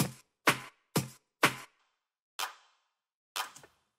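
A sharp, clean clap drum sample from a single-hits pack, struck six times in a loose pattern, each hit a crisp bright snap with a short tail, loud and isolated with silence between hits.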